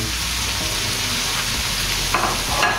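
Small cubes of capsicum dropped into a hot pan for chicken egg fried rice, frying with a loud, steady close sizzle and scraping stirs throughout.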